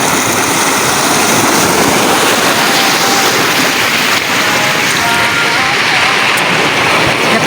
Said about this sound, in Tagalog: Narinig niyo yung mga hampas ng alon?